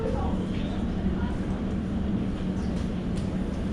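A London Underground District Line train approaches the platform at Tower Hill with a steady low rumble and wheel noise that holds for a few seconds, while indistinct voices carry under it.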